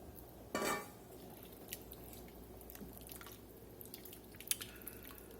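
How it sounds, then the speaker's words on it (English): Potatoes dropped into a pot of Louisiana blackened hamburger soup, one brief wet clatter followed by faint scattered drips, clinks and soft squishes in a quiet kitchen. "I'm going to get these taters in there"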